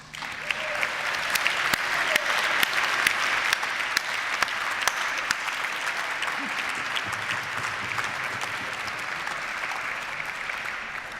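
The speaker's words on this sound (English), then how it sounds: "I think they deserve applause" Sustained audience applause fills an awards gala hall, dense steady clapping held for about eleven seconds without letup, slowly thinning toward the end.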